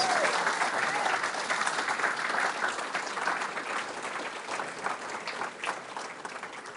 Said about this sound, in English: Give her, give her another round of applause.